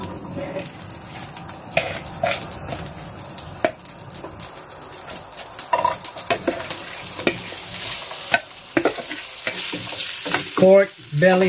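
Pork belly sisig frying and sizzling in a hot pan used in place of a sizzling plate, a continuous crackling hiss with stirring scrapes and louder bursts near the end.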